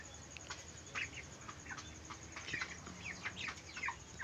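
Broiler chickens in a coop give a steady chorus of soft, scattered peeps and clucks at moderate distance, quiet and continuous with no voices.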